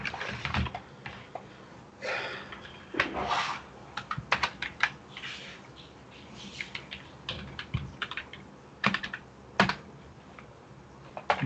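Keys clatter on a computer keyboard as a username and password are typed, in irregular bursts of close, crisp taps with short pauses between them.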